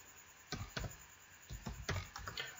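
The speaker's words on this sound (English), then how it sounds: "So on a Linux terminal, all you have to do is to type in Whois." Typing a command on a computer keyboard in a Linux terminal, a quick run of about eight soft, close key taps in an otherwise quiet room.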